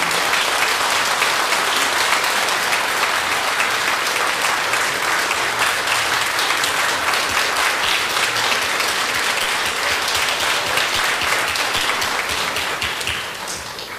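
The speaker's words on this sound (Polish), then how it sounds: "Gorące brawa!" Warm, sustained applause fills a Polish charity concert hall for a young classical singer from Głubczyce, dense and steady clapping from a large audience that carries on throughout before tapering off near the end.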